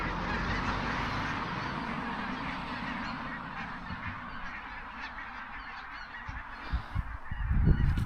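A flock of geese honking near water, a dense, continuous chorus of calls that grows louder and busier toward the end.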